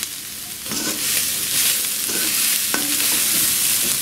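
Prawn and chicken fried rice with scrambled egg is stir-fried in a hot pan, giving a loud, steady sizzle close up with spatula scrapes and stirring strokes throughout.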